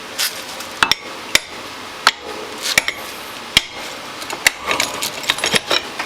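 Sharp metallic hammer taps on a Honda Rancher 350 ATV rear axle ring out one at a time at irregular intervals, close by, with faint clinking and shuffling between strikes.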